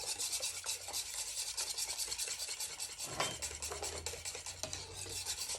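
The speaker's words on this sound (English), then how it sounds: "Then you just whisk it around with a wire whisk" A wire whisk scrapes and swirls steadily through a cold cornstarch mixture for cream-of-spinach soup, a continuous rubbing, rasping stir with a brief louder scrape midway.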